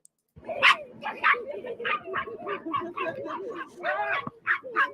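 Dog barking in short repeated bursts mixed with whimpers and yips, close and fairly loud, with people talking and exclaiming over it.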